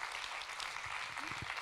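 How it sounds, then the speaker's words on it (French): Applause from the audience at an awards ceremony, a steady even wash of clapping that stays fairly quiet throughout, with a few brief voice fragments near the end. "vous pouvez vous applaudir pour ça"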